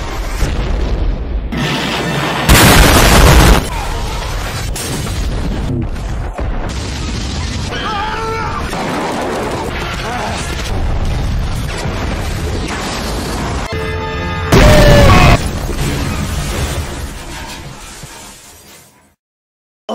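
A self-destruct explosion effect erupts as loud booms with shattering, breaking debris, two heavy blasts standing out amid a dense, sustained roar that fades to silence at the end.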